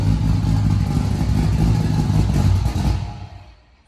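A Nissan Skyline GT-R R32, tuned by Driver Motorsports, revs loud and close with a deep, roaring engine note, sustained for about three seconds before quickly fading away.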